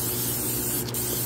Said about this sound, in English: now I'm just going to spray the pan with olive oil spray